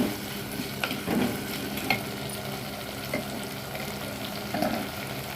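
Okra sizzles and crackles in hot oil in a pan with salt, turmeric and asafoetida, with occasional stirring scrapes over a constant frying hiss.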